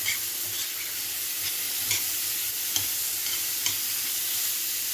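Zucchini and garlic stirred in a frying pan, giving a continuous hissing sizzle with periodic scraping strokes from the utensil at a steady pace, close and without any talking.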